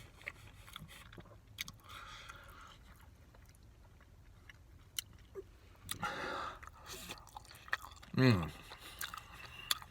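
Cheesy carne asada fries being eaten, with soft chewing and biting sounds up close, faint and intermittent, under a quiet background and occasional talk.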